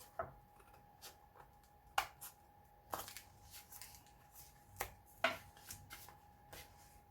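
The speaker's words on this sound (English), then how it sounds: "Okay, so I'm just going to cut that out." Scissors cutting out paper for a handmade junk journal, a series of faint, crisp snips at irregular intervals with quiet rustling between, close and soft.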